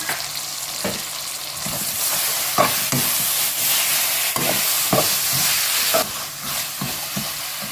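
Vegetables with small tomatoes frying in a pan for veg noodles: a steady loud sizzle throughout, with periodic scraping knocks of stirring.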